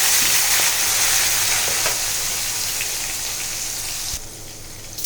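Chopped garlic, tomatoes, grated ginger, curry leaves, green onion, coriander and green chillies hit hot oil for a tempering, a dense rain-like sizzle that fills the whole stretch and eases slightly near the end.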